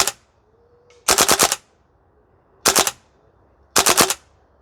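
WellPro AK12 gas blowback airsoft rifle firing full auto outdoors on a range: three short, sharp bursts of rapid cracking shots, the first and last around five rounds each, separated by brief pauses.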